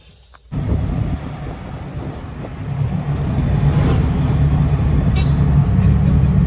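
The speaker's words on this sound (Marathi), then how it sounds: "आम्ही रिक्षाने चाललोय" An auto rickshaw carries passengers along a road in Kudal, its engine rumbling low and steady with road and wind noise that swells slightly as the ride goes on, with no one talking.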